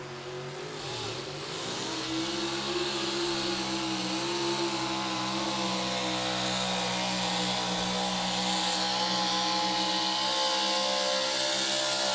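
A 480 cubic inch pulling truck engine at a county fair truck and tractor pull roars steadily and loudly, building over the first couple of seconds into a sustained high-revving snarl that carries through the whole stretch.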